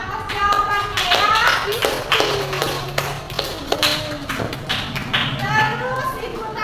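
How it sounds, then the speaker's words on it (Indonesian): A sixth-grade primary school class in Indonesia claps for a student's correct answer during a science lesson, with scattered hand claps and taps mixed with children's voices and a teacher talking. "Tepuk tangan untuk Iwan atas jawabannya ya."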